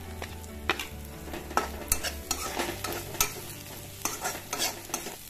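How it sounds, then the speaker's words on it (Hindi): Parwal aloo sabzi with turmeric and spices is stirred in a frying pan, a series of sharp repeated spoon scrapes and taps over a low, steady sizzle, with no voices. "इस तरह से हम इसको चलाते रहेंगे 2 मिनट तक"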